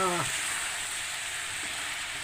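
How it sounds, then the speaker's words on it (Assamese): Potatoes for a mutton curry fry in a pan, giving a steady, even sizzling hiss close by that continues unbroken. "আলুটো আপোনালোকে একেলগে ভাজি ল'ব"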